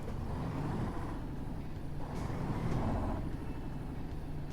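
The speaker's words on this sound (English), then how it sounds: "The sound of this truck is amazing." A heavy truck engine in Euro Truck Simulator 2 rumbles steadily at low pitch, a continuous old-fashioned drone with slight swells in loudness.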